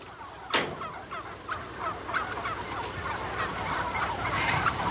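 A flock of farm birds, likely turkeys, gobbling and calling continuously in a pen, with a sharp burst near the start and steady overlapping chatter throughout.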